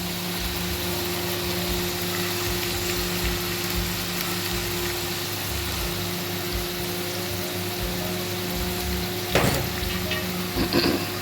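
Masala and pandu goppa fish frying in a pan make a steady, close hiss and crackle that runs the whole time, with a couple of brief louder spatters near the end.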